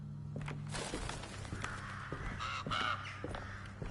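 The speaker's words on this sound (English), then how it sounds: "Darn crows." Crows caw several times in the horror video game Alone in the Dark, harsh calls spaced across a quiet, eerie background with faint ambient rumble.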